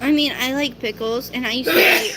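A loud, close sneeze bursts out among people chatting indoors, followed by voices continuing over it.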